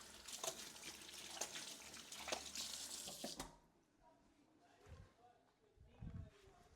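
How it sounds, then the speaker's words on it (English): A kitchen tap runs as hands are washed beneath it, a steady close hiss of splashing water for a few seconds that cuts off abruptly, followed by quieter handling sounds and soft thumps. "Gonna wash my hands."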